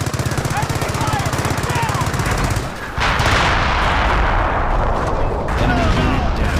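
Enemy gunfire and artillery in the Company of Heroes battle game, a dense rapid machine-gun rattle followed by a heavy blast and roaring barrage, loud and close, with voices shouting over it.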